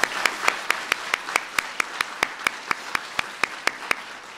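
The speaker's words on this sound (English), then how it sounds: "Kids, let's give your family members a round of applause." Children at the 2013 Kids' State Dinner clap for their family members in a steady, even rhythm of about four sharp claps per second, with little else audible.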